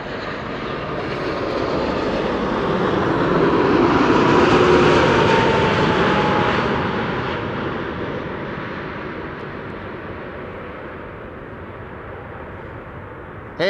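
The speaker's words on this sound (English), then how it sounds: "This is a 787-10 Dreamliner." A KLM Boeing 787-10 Dreamliner in the 100-years livery arrives at Amsterdam Schiphol, its broad jet roar swelling to a peak midway and then slowly fading with no voices over it.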